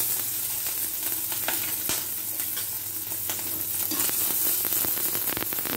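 Green chili and crushed ginger frying with browned cumin in hot oil, a steady close sizzle with occasional crackles and pops, alone with no voices.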